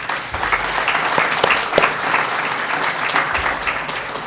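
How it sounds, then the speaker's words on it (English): Audience applause at a conference welcome and keynote, dense sustained clapping from a crowd lasting throughout. "I would really like a round of applause for Dr. Stephen Shaw"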